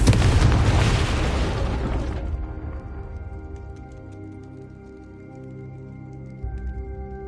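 The Confringo spell explodes in Hogwarts Legacy as a loud, close fiery burst that crackles for about two seconds, then cuts off into quiet ringing tones and soft game ambience.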